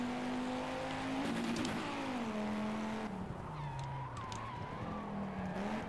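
Race car engine in the Project Cars video game, driven with manual clutch and downshifted, sounding as a steady drone whose pitch drops through several gear changes, with brief revving blips between shifts.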